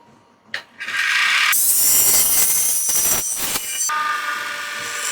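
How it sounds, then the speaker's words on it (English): A roughing gouge cuts into a spinning Amboyna burl blank on a wood lathe, giving a loud, continuous, close-up tearing and scraping roar. The sound shifts in tone as the tool engages and then eases off. "So I rough round with a roughing gouge."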